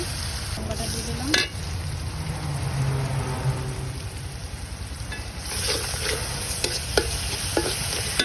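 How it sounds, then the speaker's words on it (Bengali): Stirring and sizzling in a pan as shing fish cooks with bottle gourd, mild spices and chilli over a clay stove, a steady scraping fry with occasional sharper clinks, fairly close and with no talking. "এখন আমি লাউ দিয়ে শিং মাছ দিয়ে রান্না করবো মা"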